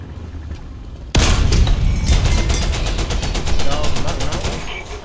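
Rapid machine gun fire in War Thunder bursts in abruptly after a second of quieter game ambience, then rattles loud and steady in a dense stream of rounds until the end.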